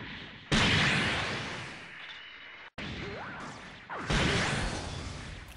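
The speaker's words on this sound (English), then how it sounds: "Now those are the kind of cannons I wanted on the Leopard Destroy G-Falcon." Cannons on a Gundam mobile suit boom and crash in SD Gundam Online, with loud heavy blasts and whooshing shots over a noisy battle background.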